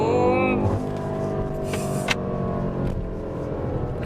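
A BMW M8 Competition in its most aggressive drive settings accelerates hard, its engine note loud and close as it rises in pitch, then settling into a steady roar with road and wind noise.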